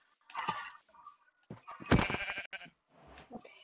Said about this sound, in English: Let's get some sheep and put some wool for a bed.